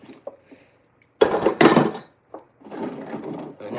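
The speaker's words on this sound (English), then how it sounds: "washing and drying dishes." Dishes, pots and cutlery clatter and clink close by as they are washed and dried at a kitchen sink, in two loud bursts of rattling followed by a longer stretch of softer clanking.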